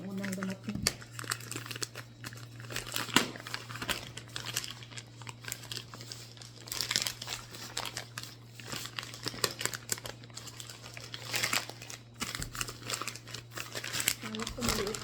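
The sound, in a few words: plastic package of an ordered bag being opened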